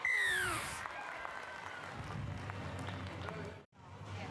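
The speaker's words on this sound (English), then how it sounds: "Fantastic crowd at Sunshine Coast Stadium." A stadium crowd at Sunshine Coast Stadium during an under-19s women's rugby league State of Origin match, Queensland versus New South Wales, cheering in a broad distant roar under a commentator's voice, with a whistle at the start.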